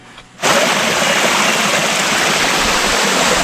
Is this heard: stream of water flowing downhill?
yes